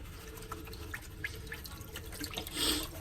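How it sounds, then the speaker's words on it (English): Tap water runs into a gold pan in a kitchen sink, a soft, faint splashing trickle with scattered drips close by. "So we'll put a little water in here to get going."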